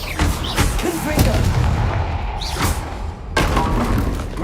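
Explosions from the Confringo spell in the Hogwarts Legacy video game, a few heavy booms with crackling blasts over a dense, rumbling game soundscape.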